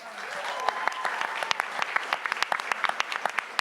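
A conference audience claps steadily for a speaker, a dense patter of many hands that continues throughout at a moderate distance.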